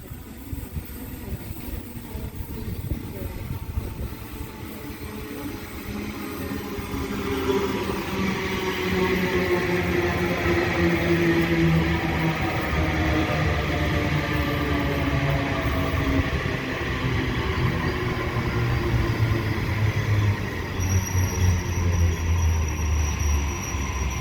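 A Sydney Waratah passenger train rumbles past Denistone station, growing louder as it rolls through, with rising and falling motor whine and steady rail noise.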